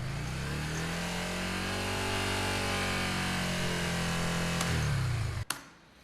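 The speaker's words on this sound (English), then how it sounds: "Here's a motorcycle revving up." A motorcycle engine revving, loud and close, its pitch rising and holding in a steady drone for about five seconds before cutting off sharply.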